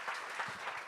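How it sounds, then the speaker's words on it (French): Studio audience at a comedy talk show clapping in a quick, even burst of many hands, moderately distant and fairly quiet, lasting under a second. "on peut applaudir."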